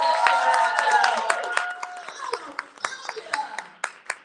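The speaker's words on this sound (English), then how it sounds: "Let's give it up, y'all. Let's clap it up." Audience clapping at a summit event, a burst of scattered hand claps at first dense, then thinning into separate sharp claps, with a voice talking over the start.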